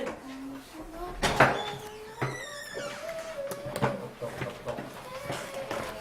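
Knocks sound on a door or wooden surface inside the Big Brother house, several sharp, separate raps spread out irregularly among people talking and moving about.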